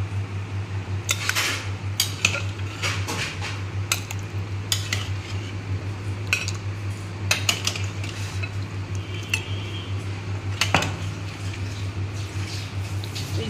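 Mutton kosha curry, freshly cooked in a pressure cooker, is served out with metal utensils: scattered sharp clinks and scrapes against the pot over a constant low fan hum. No talk.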